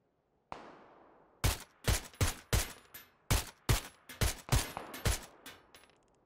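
Gunfire in the video game PUBG on console: a distant shot, then about a dozen sharp single shots in an uneven rhythm, each with a short echoing tail, loud and close with no talk.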